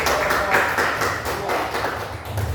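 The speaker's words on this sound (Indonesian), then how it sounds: "Kita tepuk tangan untuk" Students in a classroom clap together in a quick, steady rhythm, a close burst of group applause that carries on through the whole moment without any words.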